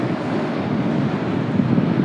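Wind buffets the microphone by the Brooklyn Bridge while Atlantic waves wash below in a dense, steady roar, loud and close, with no voices.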